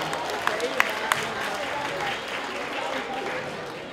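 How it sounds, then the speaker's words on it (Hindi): Audience applause at a Ramleela event at a Hindu temple in Edmonton, Alberta: steady, moderately loud clapping throughout, with a few sharper individual claps standing out early on and faint voices mixed in. "कृपया अपने अपने लिए ताली बजाएं।"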